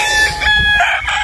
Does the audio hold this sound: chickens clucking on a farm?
yes